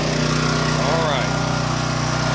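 A new Champion dual fuel portable generator engine runs steadily just after starting, a loud continuous droning hum with a faint brief whine over it.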